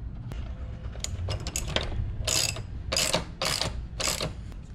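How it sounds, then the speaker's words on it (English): Metal wheel nut ratcheting onto the axle of a Doodlebug minibike during a street tire installation, a run of close, sharp clicking bursts, several in quick succession, with no talking. "go put the nut back on here"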